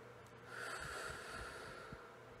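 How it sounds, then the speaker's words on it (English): One long, slow breath drawn in through the nose, a close airy rush that swells and holds for a couple of seconds, soft and unaccompanied by speech. "Step five, breathe deeply."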